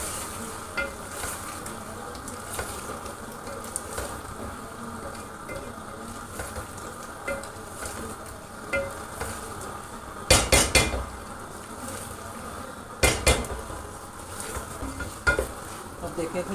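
Minced meat (qeema) frying in a pan as peas are added and stirred, with a steady sizzle, spoon scrapes and two sharp clatters against the pan partway through.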